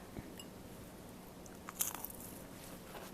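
A homemade low-carb tortilla bitten with a crisp crunch, then chewed briefly at close range; quiet, with no talk.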